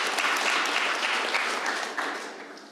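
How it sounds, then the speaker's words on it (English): Audience at a conference panel applauds steadily with dense, sustained clapping that tapers off slightly toward the end. "And yeah, round of applause."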